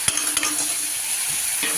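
Tomatoes hit a hot tadka of oil and spices in a pan, giving a steady loud sizzle close up with a few stirring clicks at the start and end.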